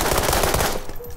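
Rapid automatic gunfire in the World War 3 video game: a dense, loud burst of crackling shots that cuts off near the end.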